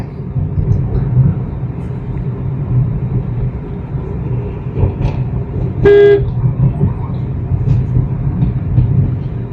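A single short car horn toot sounds midway over a steady low rumble of engine and road noise.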